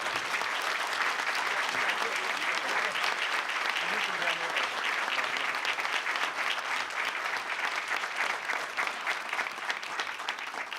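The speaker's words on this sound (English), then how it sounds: "Big round of applause." Sustained audience applause at a business talk, a dense, even wash of many hands clapping that holds steady and loud for the whole stretch.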